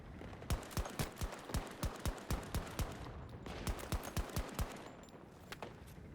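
A weapon in the video game Battlefield 2042 fires in steady, evenly spaced shots, loud and close, with a short break before another regular run of shots and a few scattered ones at the end.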